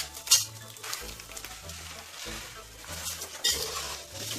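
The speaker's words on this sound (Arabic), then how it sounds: "انا عايزه احمرها تحمير خفيف قبل الشعريه ان شاء الله" Broken pasta and spaghetti lightly frying in a pot for Egyptian koshari, a steady soft sizzle with occasional stirring scrapes and clinks of a utensil against the pot, close by, with no talking.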